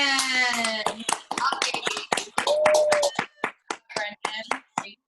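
Scattered hand claps from a small Toastmasters meeting group, uneven and sparse, with someone talking at the start and claps tapering into isolated single hits.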